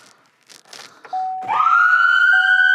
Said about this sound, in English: Easy to turn the siren on.